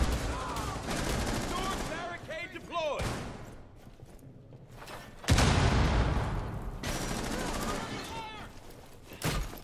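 Gunfire in Rainbow Six Siege Terrohunt mode, bursts of rapid automatic shots in loud stretches broken by a brief quieter gap, with players talking over the shooting.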